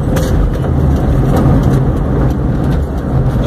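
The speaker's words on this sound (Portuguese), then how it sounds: "Mas aqui eu tenho que esperar aqui os carros passarem" Cars pass along the MG 050 highway, which is being widened to two lanes each way, making a loud, steady rumble of traffic close by, with no talking over it.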